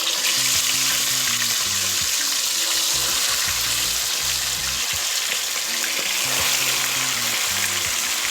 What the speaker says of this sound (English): I will now go ahead and start the frying of the chicken.